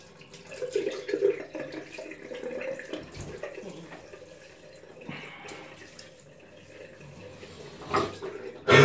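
Tap water runs into a bathroom sink while someone wets their face before shaving, a steady close splashing flow with a few louder splashes and clatters, no speech.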